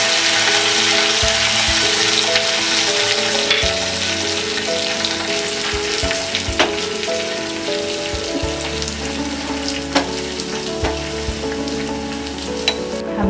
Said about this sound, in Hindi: इसमें डालेंगे ये कड़ी पत्ता और ये ड्राई रेड चिलीज